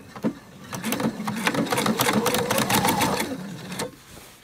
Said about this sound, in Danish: Og så skal jeg så sy en gang til hen over sømmen.